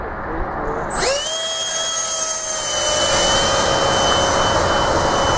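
An RC model F-105 Thunderchief jet spools up for takeoff, its turbine whine rising sharply and then holding as a loud, steady high-pitched roar close by.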